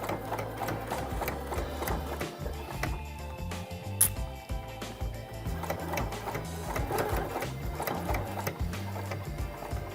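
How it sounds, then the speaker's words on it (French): A sewing machine runs steadily, joining two pieces of fabric edge to edge with a short seam, its fast mechanical chatter continuous and close with brief pauses in the rhythm. "on coud à quelques millimètres en faisant attention que les deux tissus soient bien bord à bord"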